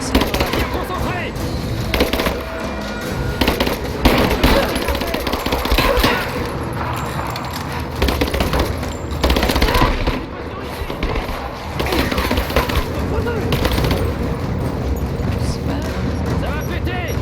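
Dense gunfire in the video game Rise of the Tomb Raider, a continuous loud clatter of shots and impacts running throughout with no pauses.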